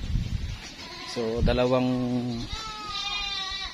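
A goat on a Philippine farm bleats once in a long, wavering call, close and clear, with someone talking before and after and fainter bleating trailing at the end.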